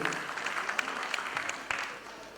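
An audience at a 2019 ghazal concert evening claps for the stage host in steady, dense applause that fills the whole stretch at an even, moderately loud level, with a few sharper claps standing out and no clear talk over it.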